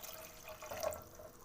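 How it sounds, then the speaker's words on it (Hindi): About three cups of water pour steadily into a pot on a stove, a close, continuous splashing and trickling that lasts throughout at a moderate level. "इसमें हम पानी डालेंगे। पानी हम तकरीबन 3 कप पानी डाल रहे हैं इसमें"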